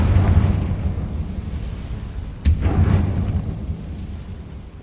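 A Confringo spell blasts in the video game Hogwarts Legacy as a single sudden boom midway, standing out over a steady rumbling backdrop of game noise.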